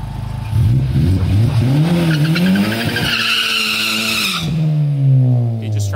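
A Honda Type R race car with a stock turbo and 387 wheel horsepower launches on a drag pass, tires squealing as the engine revs hard and climbs through gear changes, loud and close.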